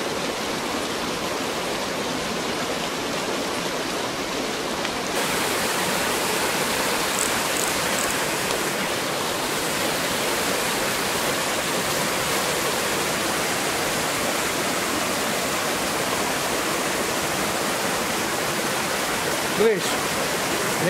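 Water rushing down a slope in a stream at night, a steady broadband roar of flowing water close by that fills the whole stretch without letting up.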